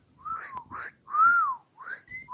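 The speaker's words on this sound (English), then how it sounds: "So your basic wolf whistle," A person makes a few quiet wolf whistles in quick succession, each a rising-then-falling slide, with short gaps between them.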